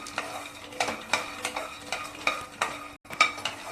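Peanuts rattle and scrape in a dry pan as a spatula stirs them in quick, regular strokes, close and fairly quiet.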